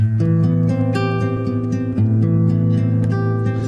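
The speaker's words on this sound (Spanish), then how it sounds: "que es el menor 7/9, que suena así." A minor seven-nine chord rings out over several seconds with a few notes re-struck along the way, warm and sustained, with no voices.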